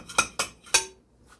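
A metal pot handled in a home kitchen while cooking tomato soup gives three quick, bright clanks in close succession, then a faint final clink after a short pause.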